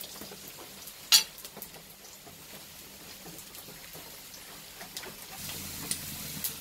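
Mustard and fenugreek seeds sizzle in hot oil in a pan, cooked for a bitter gourd tamarind curry. The hiss is soft and steady with small popping crackles, a louder clatter near the start and livelier frying toward the end.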